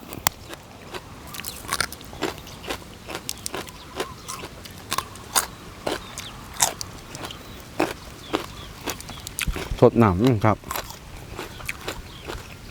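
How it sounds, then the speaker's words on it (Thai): Crunchy seaweed being chewed with a spicy Thai oyster salad with chilies, sharp close bites and crunches repeating steadily throughout, under a quiet background. "สาหร่ายนี่ก็กรุบกรุบดีเนาะพี่น้องเนาะ"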